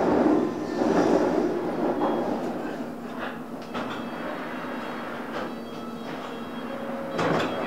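Riding on board a London Underground District Line train bound for Wimbledon: a continuous rumble of the carriage with rhythmic wheel clicks and rattles, louder at the start and end, with no voices.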